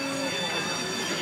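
A historic tram at a tram exhibition, a steady rail rumble with shrill wheel squeal at moderate level, with faint voices in the background.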